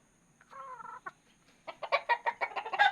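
A yellow-legged hatch gamefowl gives a short rising call, then a run of close, quick clucks that grow louder toward the end, in a quiet yard.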